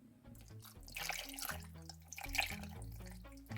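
Water is poured into a cooking pot of rice-stuffed mini peppers already covered in tomato sauce, a soft liquid trickle running under steady background music.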